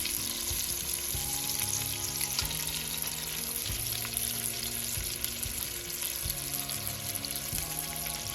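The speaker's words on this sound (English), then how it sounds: "I'll make sure I turn it for the back to be searing down in the pan. So I'll sear it." Chicken thighs sear in a hot pan for one-pot chicken and rice, giving a steady loud sizzle and crackle that holds throughout with no voices.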